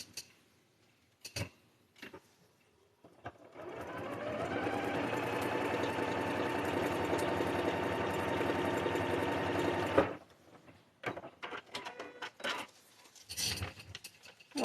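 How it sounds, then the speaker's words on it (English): A sewing machine stitches fabric in one steady, fast-running whir lasting several seconds, bracketed by quiet handling clicks and rustles before and after. "And we'll flip it over and stitch."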